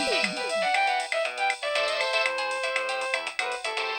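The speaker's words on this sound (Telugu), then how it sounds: "ఫోన్ మోగుతుంది, వినబడట్లేదా?" A mobile phone ringtone plays a bright, repeating electronic melody, loud and continuous from start to finish with no voices over it.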